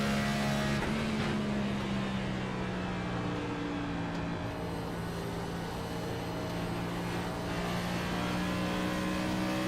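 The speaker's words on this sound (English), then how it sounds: "The upshifts, which is interesting, that's going to keep lower revs into the corner." A race car engine drones steadily with tonal harmonics in a sim-racing broadcast of the Southern 500, holding a continuous rev with gentle pitch shifts and no talk.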